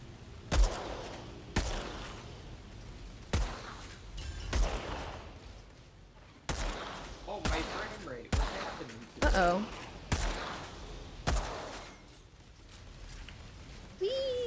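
Gunfire in the video game Outriders: repeated sharp shots and short bursts at irregular intervals over a steady background hum, loud and close, with voices talking between the shots.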